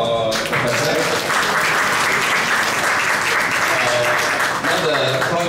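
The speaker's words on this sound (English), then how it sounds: "Can you give another round of applause for Professor?" A lecture audience gives a sustained round of applause for a professor after a talk on conserving Melaka's cosmopolitan heritage, a dense, even wash of clapping with a voice heard at the start and end.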